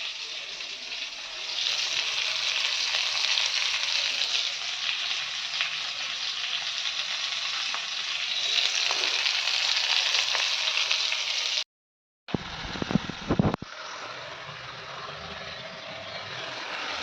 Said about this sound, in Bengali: পটল আলুগুলো একটু ভেজে নেবো